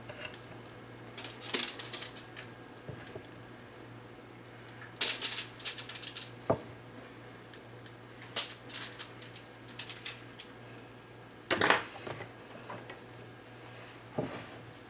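Acorn squash moved onto a pan with a fork, giving sparse sharp metallic clinks and taps spaced several seconds apart against a quiet room background.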